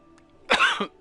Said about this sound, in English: Still a bit of a cough.